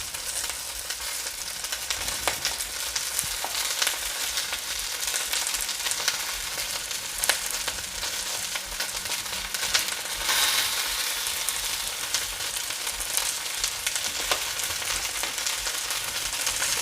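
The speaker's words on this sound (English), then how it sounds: "we're going to add the sliced onions and we're going to cook the onion until it starts to soften" Sliced onions fry steadily in a pot, producing a dense, even sizzle that holds at a constant level throughout, with faint stirring under the hiss.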